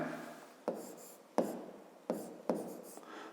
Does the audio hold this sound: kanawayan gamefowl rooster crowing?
no